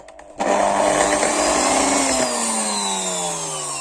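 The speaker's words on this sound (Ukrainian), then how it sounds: "Тепер білки починаємо збивати, поки не утвориться піна" An electric mixer starts abruptly and whirs loudly as it whips egg whites into foam, its motor pitch sliding gradually lower over the few seconds it runs.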